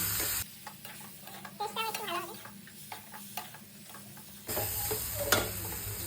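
Boiled potatoes fry and sizzle in a pan with spices while a spoon stirs and scrapes against the metal in irregular strokes. A loud, steady hiss opens and closes the stretch, and quieter stirring clatter sits between.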